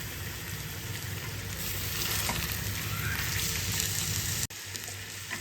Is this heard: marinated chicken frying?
yes